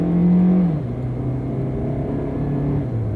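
A Kia car engine, out of eco mode, rises in pitch as it accelerates, a steady loud rumble with a brief dip in revs partway through from a hesitation caused by an ignition coil fault.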